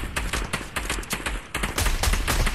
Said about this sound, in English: Shooting over here.